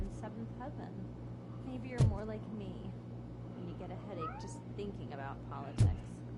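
A cat meows several times in the RoboCop video game, short rising mews scattered across the clip amid speech and a couple of sharp thumps.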